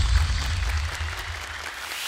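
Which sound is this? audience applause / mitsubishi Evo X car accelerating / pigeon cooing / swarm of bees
audience applause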